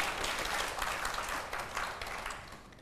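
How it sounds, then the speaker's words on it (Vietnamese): Brief applause from a small group of people, a quieter patter of clapping that swells slightly then fades over about three seconds. "Thì mọi người có thích thì vỗ tay em ủng hộ lên nào."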